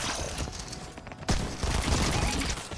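Rapid SMG gunfire in Fortnite rattles in dense, continuous bursts, loud and close, with a brief lull near the middle before the shooting resumes even heavier.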